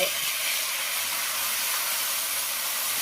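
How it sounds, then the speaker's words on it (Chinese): Freshly boiled water is poured into a pot of large bones stir-fried until lightly golden, giving a loud, steady hiss and sizzle that holds throughout with no speech. "接下来迅速往里面倒入刚刚烧好的开水"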